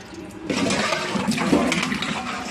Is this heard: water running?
yes